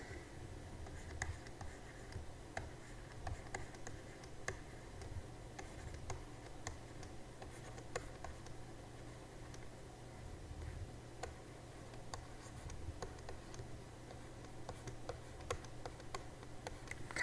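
Faint, steady scratching and tapping of a pen or marker writing out electron configurations on a board, with sparse ticks and clicks across a quiet room and no speech.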